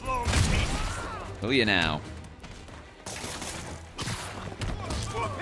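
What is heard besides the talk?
gunfire in the video game Marvel's Spider-Man Remastered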